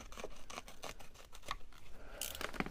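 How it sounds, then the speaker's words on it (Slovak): Roofing tape being snipped while fitting a window on a small wheeled cabin, a series of short, close cutting snips and crinkles with no talk. "Prejdem nejaké 2 cm a v tom mieste si pásku odrežem."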